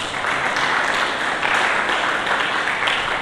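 A church congregation claps together in a full, steady round of applause, a dense, fairly close wash of many hands that holds evenly throughout, with no talk.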